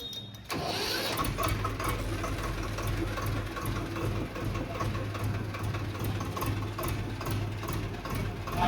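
A heavy tractor engine chugs steadily at low pitch with a rhythmic knocking pulse, running continuously after a brief quiet start.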